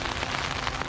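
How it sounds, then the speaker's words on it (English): Steady rain falling at a lakeside camp at Nemeiben Lake, a dense, continuous patter close by with no voices. "As I got to camp, it started raining."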